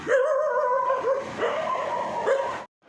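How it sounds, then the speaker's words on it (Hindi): Several dogs bark and yelp in overlapping bursts, fairly close and continuous, before cutting off abruptly. "आपको सुनाई दे रहा होगा कि किस तरह से कुत्तों के भौंकने की आवाज़ भी आ रही है"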